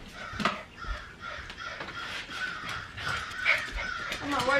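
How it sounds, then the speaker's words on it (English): Crows caw loudly and repeatedly, in harsh, irregular bursts outdoors. A dog yips and whimpers among them, and a person talks over the calls. "Those crows are so loud."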